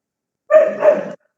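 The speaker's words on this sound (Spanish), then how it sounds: "hay un perrito que también quiere participar" A single dog lets out one short, sharp bark, close and loud, in an otherwise quiet indoor setting during an online class.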